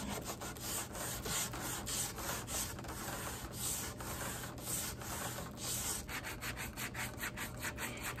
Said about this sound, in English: it required a lot of sanding, and a lot of it by hand